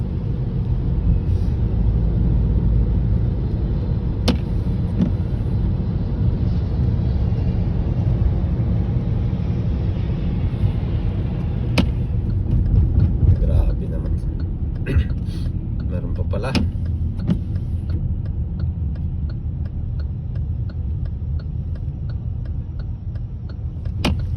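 Road traffic rolls along a flooded street during rain in Dubai: a constant loud rumble of passing vehicles with occasional sharp ticks, heard close throughout.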